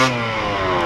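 A Yamaha DT 50 two-stroke motorcycle engine revs steadily at close range, a buzzing, harmonic-rich drone that holds near-constant pitch for under a second with no voices.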